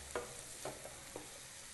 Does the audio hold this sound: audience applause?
no